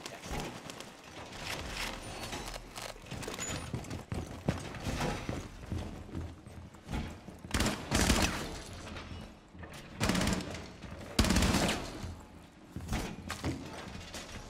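P90 submachine gun fire in the video game Rainbow Six Siege, with repeated short rapid bursts and thumps spread across the stretch at moderate loudness among other game sounds.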